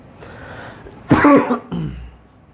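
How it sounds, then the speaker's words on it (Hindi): A man coughs and clears his throat at close range: a short raspy buildup, one loud throaty burst, then a second shorter rumbling clear. "मैं ये फटाफट अपना ठीक करता हूँ गला और खांसी वगैरह"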